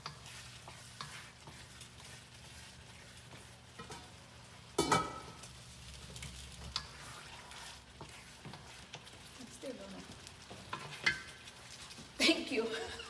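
Garlic dropped into hot oil for jollof rice, a low sizzle with scraping stirs and a couple of sharp clatters of utensil on pot, close and moderately quiet.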